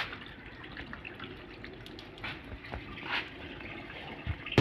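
Water trickles and splashes from a wash basin tap being checked after clearing a blockage, with scattered drips and small clunks, steady and close, with no voices.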